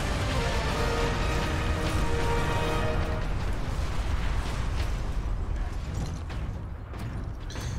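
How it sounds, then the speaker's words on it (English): An explosion in the Space Marine video game booms as a loud, sustained rumbling blast with creaking, metallic debris, slowly fading over several seconds. "I'm sure the explosion will be a bit bigger."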